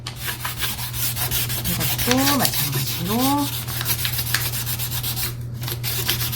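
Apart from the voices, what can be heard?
hand sanding wood with sandpaper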